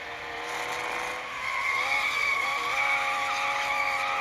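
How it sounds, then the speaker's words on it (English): Race car tires squealing as it slides sideways in the Endurance GT Racing game at Circuit of The Americas, a steady high screech over engine drone, fairly loud and continuous. "skidding like that, that's a large section of the lap that we just kind of went sideways, more or less."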